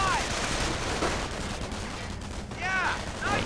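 Rapid bursts of gunfire crackle through a World War II real-time strategy battle with riflemen, BAR grenadiers and snipers, sharp repeated shots layered with distant firing beneath a commentator's voice.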